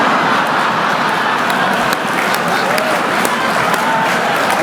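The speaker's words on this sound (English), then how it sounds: "What are you clapping about?" A dense, sustained wash of audience applause fills a banquet room at the Nixon Library during a comedy roast, many hands clapping loudly and evenly for several seconds with no break.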